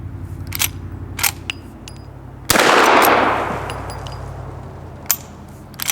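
Rifle shots fired in quick succession at targets: several sharp cracks early on, then a loud burst with a long rolling echo, followed by a few more scattered shots, fairly close.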